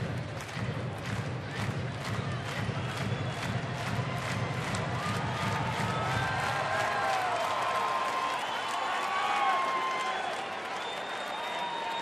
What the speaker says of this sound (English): this sellout crowd trying to get behind their team